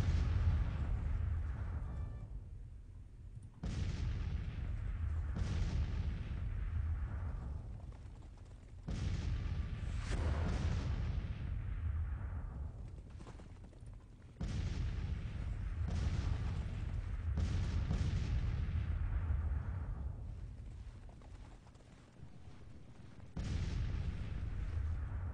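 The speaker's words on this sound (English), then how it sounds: "I'm going to set one of our artillery batteries to counter battery fire" Artillery batteries fire counter-battery salvos in the Civil War strategy game Grand Tactician, sending repeated heavy booms at irregular intervals, each rolling out into a long echoing decay, several blasts overlapping across the stretch with no voices.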